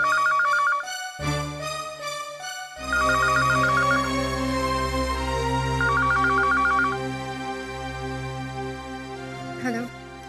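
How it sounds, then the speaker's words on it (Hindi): A telephone ringtone rings in repeated bursts of electronic tones in a Hindi TV drama scene, loud and close, over a sustained music background. "फोन बज रहा है, फोन उठाओ।"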